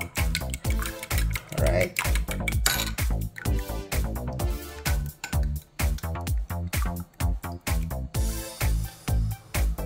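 Black rice being mixed for Chinese fried rice, a rapid run of scraping, tapping and clattering strokes in the bowl, close and fairly loud, with a brief spoken word.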